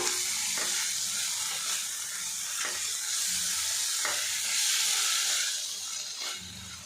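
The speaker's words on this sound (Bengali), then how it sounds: "এবারে এগুলো একসঙ্গে নাড়াচাড়া করে নেব।" A spice mixture for a soybean dish is stirred in a pan over low heat, with a steady broad sizzle and several soft scrapes of the spoon against the pan at irregular moments.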